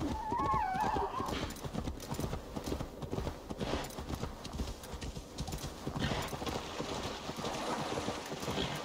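Steady clip-clop of horse hooves trotting in the video game Assassin's Creed Valhalla, with a whinny near the start and an ambient outdoor bed behind it; no talking.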